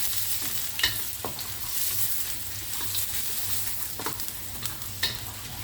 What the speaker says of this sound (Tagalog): Halu-haluin ang luya hanggang mag-brown.